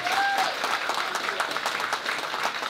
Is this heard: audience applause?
yes